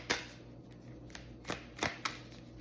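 Cards are shuffled in a few quick, crisp riffles and snaps, close by and fairly quiet, with short pauses between them.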